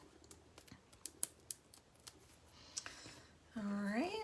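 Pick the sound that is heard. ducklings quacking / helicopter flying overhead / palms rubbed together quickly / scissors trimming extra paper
scissors trimming extra paper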